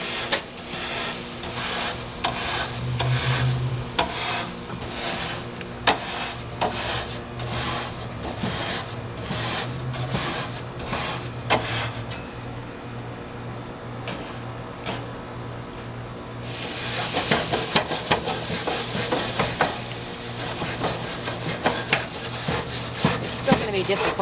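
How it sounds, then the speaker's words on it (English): A wet grill brush scrubs BBQ grill grates in quick, repeated rough strokes, close and steady, with a short pause partway before vigorous brushing resumes. "You can hear, brush it all off."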